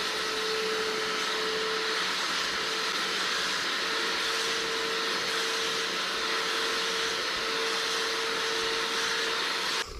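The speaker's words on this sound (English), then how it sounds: "you'll just turn the machine on, hit the trigger, and you're going to start just hosing this down with our cleaning solution" A carpet extractor machine runs with a steady, loud broadband whir and a faint constant tone while spraying cleaning solution onto a car seat, continuous for about ten seconds with no talking.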